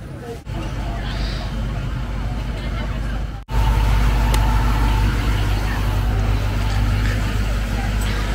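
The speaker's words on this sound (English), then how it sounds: "And this is one of the kangaroo buses that you could take." A kangaroo shuttle bus at the San Diego Zoo drives past with a steady, loud engine rumble and road noise, close by, under a murmur of crowd chatter. There is a brief dip near the middle.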